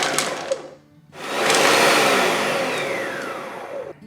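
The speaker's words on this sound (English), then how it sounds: "let's turn the blender on, and the only thing I'm gonna do here is just pulse a couple times." A kitchen blender pulses pesto ingredients in two bursts: a short whir, a brief pause, then a longer, louder roaring spin that winds down, close and dominant.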